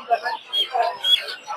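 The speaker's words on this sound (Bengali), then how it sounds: "দর্শকের জায়গায় অনেক টাইগার মুরগির বাচ্চা দেখতে পাচ্ছেন, ছোট ছোট।" Small tiger-type chicks chirp in quick high peeps at a rural poultry market, several close and overlapping in a busy stream.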